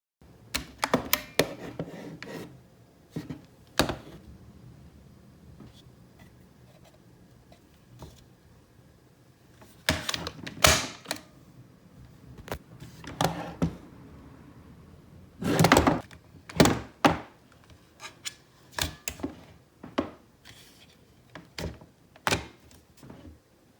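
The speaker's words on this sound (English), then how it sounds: "Fold the stock over and give it a smack or a push to lock it over the tab." The folding stock of a Beretta ARX 100 rifle is swung over and smacked to lock on its tab. Repeated close plastic clacks, thumps and clicks come in uneven bursts, with some louder knocks midway.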